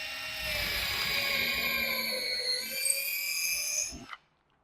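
Battery-operated electric drill running in high mode and boring easily through material: a loud, steady, high-pitched motor whine that dips slightly in pitch under load before abruptly cutting off.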